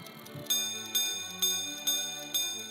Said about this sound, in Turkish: ve dakikalar için daha tiz bir gong.